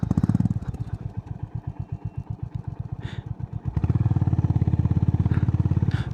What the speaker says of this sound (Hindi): नहीं बाइक ऊपर नहीं जा रही, बाइक नहीं जा रही ऊपर